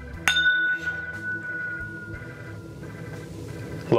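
Glasses of Sazerac Rye whiskey clink together in a toast, one sharp bright chime near the start that rings out and fades slowly over a quiet room.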